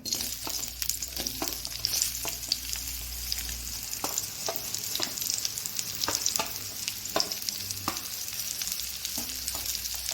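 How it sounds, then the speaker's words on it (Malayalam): Sliced onions and small shallots saute in oil for a chutney, with a continuous close sizzle and repeated scraping taps of a spoon stirring the pan. "ചെറിയ ഉള്ളിയും കൂടിയിട്ട് ഒന്ന് എണ്ണയിൽ വഴറ്റിയെടുക്കാം"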